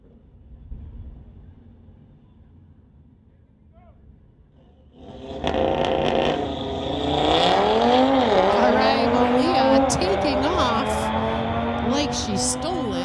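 A 2018 Audi R53 on a drag strip launches after a quiet idle, its engine roaring up through rising revs and gear changes, loud and close to the end, with a commentator's voice faintly underneath.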